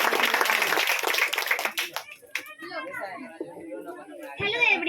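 Students at a Teacher's Day celebration give a brief burst of clapping to welcome a girl to the stage, fading after about two seconds into chatter and children's voices.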